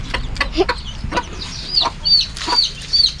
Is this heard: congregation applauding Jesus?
no